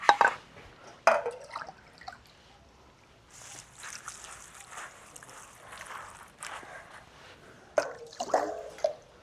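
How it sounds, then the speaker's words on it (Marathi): Water splashing and sloshing as spinach leaves are swished and rinsed in a basin, with louder bursts at the start and end and quieter stretches between. "पालक दोन तीन पाण्याने स्वच्छ धुवून घेऊ"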